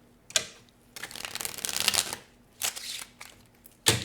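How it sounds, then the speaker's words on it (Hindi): Tarot cards shuffled close up, heard as a few quick crisp riffles and ruffling bursts of paper cards with short gaps between them, and no talking. "So one last shuffle."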